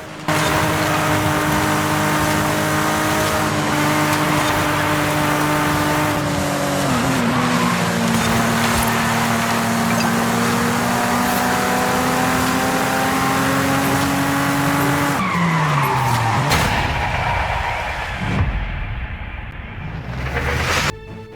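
Race cars in Forza Horizon 5 rev and skid with sustained engine whine and tire squeal, loud and continuous, dropping off near the end as the action shifts.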